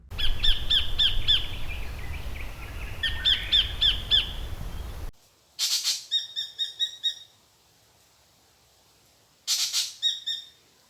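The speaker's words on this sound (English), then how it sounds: "Sacred Kingfisher and Spangled Drongo, after just playing it." Repeated sharp calls of a sacred kingfisher and a spangled drongo in bursts, first over a noisy outdoor background, then clearer harsh chattering calls separated by brief silences.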